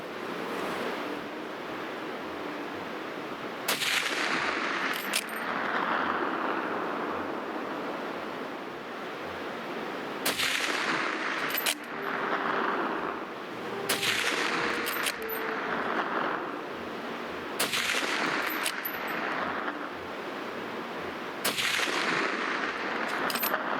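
Lee Enfield SMLE No1 Mk III* rifle fired five times at a 600-yard range, sharp distant cracks spaced several seconds apart, each followed by a rolling echo over outdoor wind noise.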